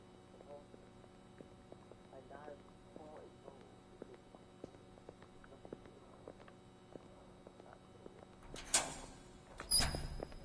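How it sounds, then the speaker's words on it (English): A door opens in the video game Exit 8, heard as two sharp, loud bursts near the end that break a long stretch of quiet, humming ambience with faint ticks. "The door's opened, oh my god."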